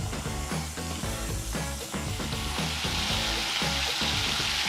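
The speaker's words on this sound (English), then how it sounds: "now I want to sear it off first before we get into the slow braising." Pork pieces sear in a pan of hot oil, a loud, steady sizzle and crackle filling the whole stretch, with no voices over it.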